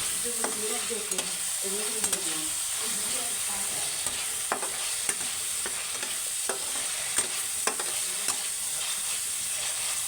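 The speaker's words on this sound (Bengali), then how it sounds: "মশলাটা একটু ভেজে নিচ্ছি, না ভেজে নিলে কাঁচা গন্ধটা থেকে যাবে।" Steady sizzling hiss of spices frying in a pan, with scraping and clinking of a spoon stirring at an irregular pace, close up.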